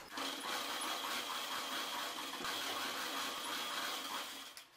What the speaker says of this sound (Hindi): इस पट्टी के ऊपर से हम दाब सिलाई लगा